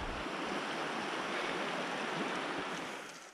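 Moose River flowing steadily beside a campsite on the Great Divide Trail, a loud, continuous broadband rush of water with no speech.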